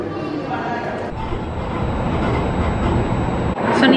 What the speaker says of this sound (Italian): Sono in treno che sta raggiungendo Venezia